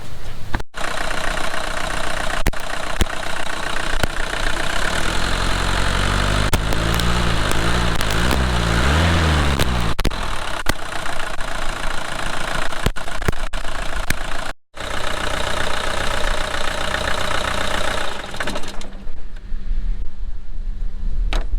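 A Mercedes 240D with a swapped OM616 diesel, a barn find, starts and settles into a steady, loud, close idle with a rough, knocking clatter that runs on alone for about twenty seconds.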